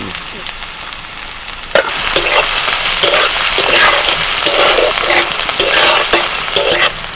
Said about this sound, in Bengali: ওই পেঁয়াজগুলো ভেজে নিচ্ছি